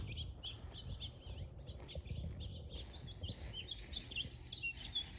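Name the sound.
sparrows chirping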